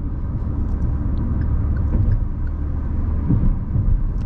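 A Kia Sonet 1.2 petrol car cruises along, heard from inside as a steady low engine and road rumble, even and unbroken without speech.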